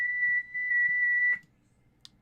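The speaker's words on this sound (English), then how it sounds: "So that was the sound of FT8, by the way, from your computer" A steady FT8 digital ham radio tone from a computer holds for about a second and a half over faint background murmur, then cuts off, followed by a brief high blip.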